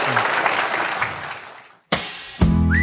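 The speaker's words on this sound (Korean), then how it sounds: "문정인 교수님한테 뜨거운 박수 다시 한 번만 부탁드립니다" A live audience at a public podcast lecture applauds Professor Moon Chung-in, a dense burst of clapping that fades out, followed by a brief swell of music.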